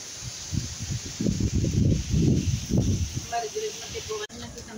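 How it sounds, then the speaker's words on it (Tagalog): Strong typhoon wind under storm signal number 3 in Cagayan gusts through leaves in loud, surging rustles, with people talking over it. "Lakas ng hangin."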